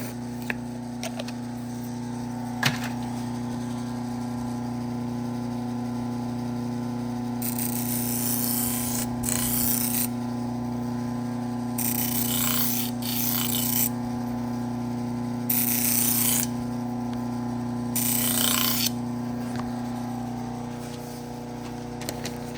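A knife is sharpened on a motor-driven leather wheel: a steady machine hum runs throughout, and the blade pressed against the wheel adds several bursts of bright hissing friction, each a second or two long, with short pauses between.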